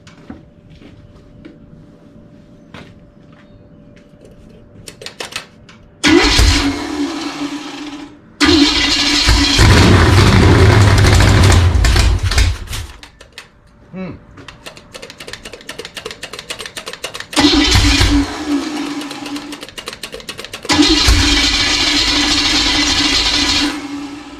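A car engine cranks repeatedly in several loud bursts of a few seconds each, the starter turning over but the engine never catching because no fuel reaches it, with quiet gaps between attempts.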